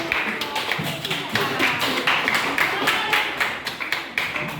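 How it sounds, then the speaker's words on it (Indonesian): Classroom audience clapping after a student group's presentation: a dense, steady patter of many hands for several seconds, fairly close, with faint voices underneath. "mari kita berikan tepuk tangan untuk"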